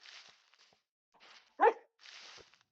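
A single short dog bark sounds once, fairly clear, in the video game Sken Camp. Soft rustling footsteps come before and after it.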